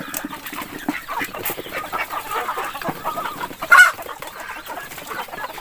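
Farm chickens cluck in a busy, continuous chorus at moderate distance, with one louder squawk standing out near the end and no talking.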